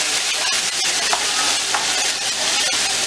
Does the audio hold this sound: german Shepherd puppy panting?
no